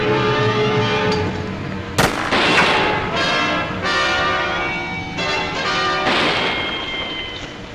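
Gunfire in an old TV western series about a sergeant, several loud cracking shots with echoing tails ringing out over a steady droning music score, with no voices.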